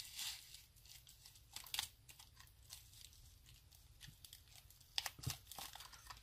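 Sticky tape strip pulled from a dispenser and cut, heard as scattered crinkling and tearing bursts with sharp crackles, fairly close, with no talk.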